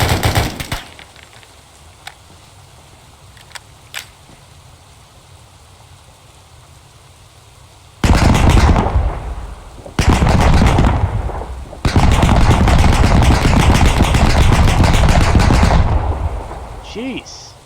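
Gunfire in the military shooter game ArmA 3: sparse faint clicks at first, then loud sustained bursts of rapid firing with short pauses between them.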